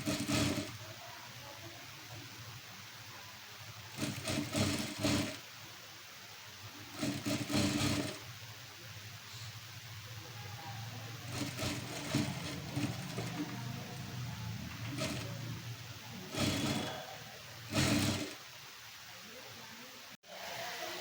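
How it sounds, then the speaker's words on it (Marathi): A sewing machine stitches a frill onto a leaf-neck blouse in short bursts of whirring, separated by quieter stretches and faint background noise. "त्यामुळे थोडंसं अंतर सोडून मग टीप मारायला सुरुवात करा."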